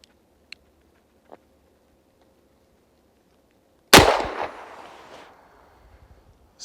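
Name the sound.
Smith & Wesson Model 27-9 revolver gunshot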